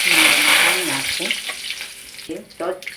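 Mustard seeds and cumin hit hot oil in a kadai, giving a broad, steady sizzle that dominates the start and then eases back under intermittent brief voiced sounds.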